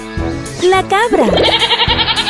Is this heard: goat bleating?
yes